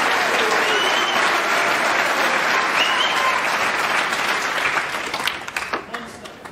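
A snooker crowd applauds steadily at a Champion of Champions 2018 match after a Ronnie O'Sullivan century break, the clapping loud and sustained before easing into scattered claps near the end.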